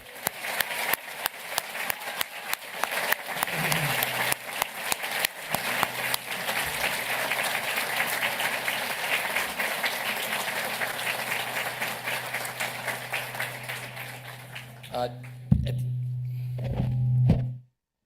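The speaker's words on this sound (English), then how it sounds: "A round of applause again for all our doctors." A crowd applauds steadily for several seconds at a university PhD hooding ceremony, a dense patter of many hands that tapers off near the end as a low hum takes over.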